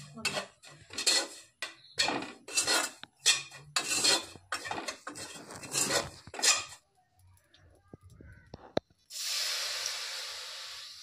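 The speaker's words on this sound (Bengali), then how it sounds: "গাজরের জলটা দিতে থাকবো এবং আমি নাড়তে থাকবো।" A utensil stirs rice-flour dough in a pot as carrot water is added, making a series of close, rhythmic scraping strokes. After a short pause, a steady hiss follows.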